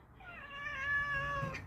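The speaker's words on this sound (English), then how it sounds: "I heard a meow." A tomcat outdoors at night lets out one drawn-out, rising and falling meow, close and clear against a quiet background.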